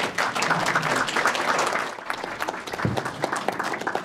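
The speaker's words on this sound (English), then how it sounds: "Please join me in giving a warm welcome to Jeremy Pelzer" An audience at a public panel event applauds warmly to welcome the moderator, with dense, sustained clapping that thins to scattered claps toward the end.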